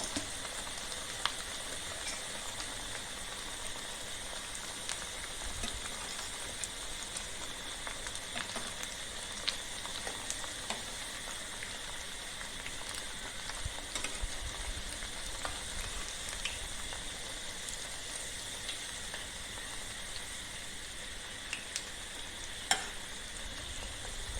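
Pumpkin gharya deep-frying in a pan of oil until golden, a steady close sizzle and crackle with faint pops throughout, no voices.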